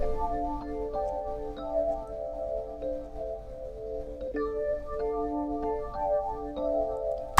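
Rhodes electric piano sample processed through a multiband compressor and a T-Rex compressor with an AC Guitar Arpeggio preset, playing soft sustained chords with gentle repeated notes, steady and mellow throughout without any voices.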